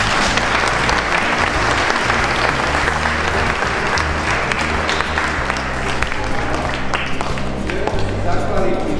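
Applause from a school audience at a chess tournament marking the school's day, dense steady clapping filling the room throughout with a crowd murmur underneath.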